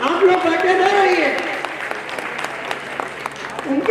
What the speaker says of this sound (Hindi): कृपया जोरदार तालियों से